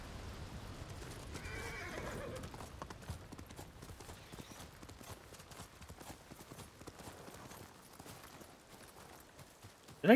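A horse in the video game Ghost of Tsushima neighs once near the start, followed by a steady, soft clip-clop of hooves that continues alone at a moderate distance.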